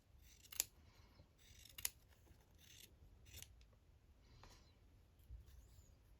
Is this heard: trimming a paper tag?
yes